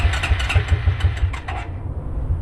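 Suzuki King Quad 300 4x4 ATV engine cranking cold with a carburetor problem, a rapid series of close, loud chugging turns that stumble and fade into a low uneven rumble.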